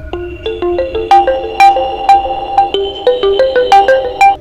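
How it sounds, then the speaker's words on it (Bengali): A mobile phone resting on a table rings at night, its bright melodic ringtone playing a rapid sequence of clear repeating notes, loud and close, with no other sounds. "হঠাৎ টেবিলে রাখা ফোনটা বেজে উঠল।"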